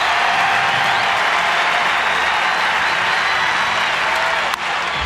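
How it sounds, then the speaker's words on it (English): Dense, steady roar of a baseball stadium crowd cheering and applauding during a perfect game pitched by Matt Cain, loud and continuous throughout with no gaps. "listening to that crowd."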